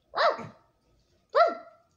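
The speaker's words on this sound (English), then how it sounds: "Why are you barking at me?" A dog barks twice at close range, two sharp separate woofs about a second apart with silence between and no talk over them.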